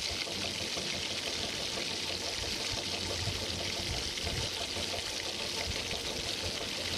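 Soy sauce pours steadily into a hot pan while egg 65 cooks, a continuous liquid rush with a sizzling hiss that holds at an even level throughout, with no voices.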